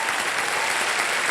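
A game show studio audience applauds in a dense, even wash of clapping that holds steady for a moment.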